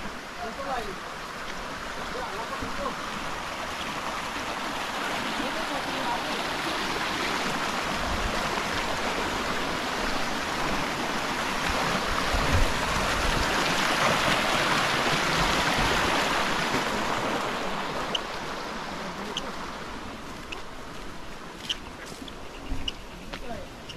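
Cold water from the mountains rushes along a river in a steady broadband wash that swells and eases over time, with faint voices and occasional small splashes nearby.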